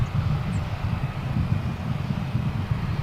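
American Airlines Boeing 787-9 jet arriving from Maui as it comes in to land at DFW International Airport, a steady, moderately distant low jet roar with faint wind and no voices.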